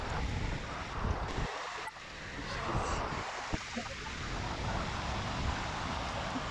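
Ocean waves wash at the seaside in a steady, broad roar, mixed with wind buffeting the microphone, with brief dips and knocks along the way.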